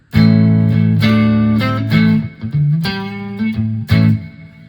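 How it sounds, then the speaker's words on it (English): An electric guitar played through a LEKATO Tank-G processor on a preset reverb into a 12 watt amp, a few loud strummed chords ringing out with long reverb tails, close and alone. "so that's the reverb on this. That's a preset reverb."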